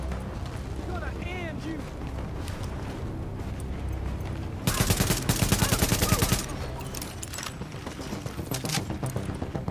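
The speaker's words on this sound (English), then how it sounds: "So we're about to demonstrate why I like the assault rifles." Assault rifle fire in The Division, with rapid automatic bursts that swell into a loud sustained volley midway. Other game sounds and someone talking run throughout.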